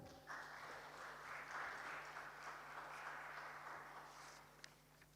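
Conference audience at an international gas pipeline meet claps for a speaker taking the dais; dense applause swells after a brief start and fades gradually, with a steady hum underneath.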